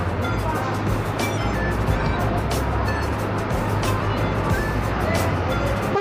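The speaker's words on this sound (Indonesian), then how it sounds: "Dan bus Eka pun berangkat ya menuju arah Surabaya" An Eka bus pulls away from a bay at the Anjuk Ladang bus terminal toward Surabaya: a steady low engine rumble in a busy terminal, with someone talking over it.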